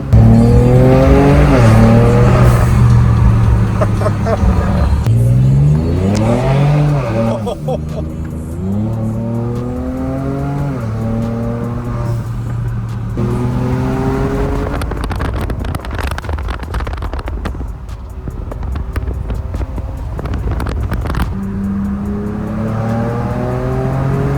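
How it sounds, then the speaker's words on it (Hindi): A Ford Ranger Raptor truck is driven hard, its loud engine revving up through the gears with rising and falling pitch, steady and close, with some speech from the cabin. "Damn, this truck is fast."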